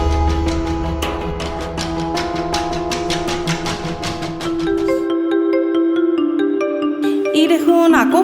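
A mobile phone rings indoors with a melodic ringtone playing steadily and fairly loud, its repeating tones continuing alone with no talking over it.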